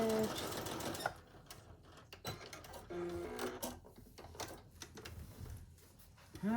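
A sewing machine stitches a Christmas table runner, its rapid mechanical chatter running in steady bursts with brief pauses and speed changes, close and fairly loud, with a few faint tonal beeps.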